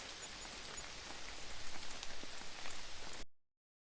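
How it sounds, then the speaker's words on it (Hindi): Steady rain patters onto a surface, a dense continuous hiss with scattered drop impacts, alone and fairly close, ending abruptly. "तभी अचानक से बारिश गिरने लग गई"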